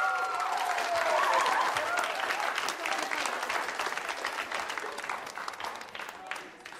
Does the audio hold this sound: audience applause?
yes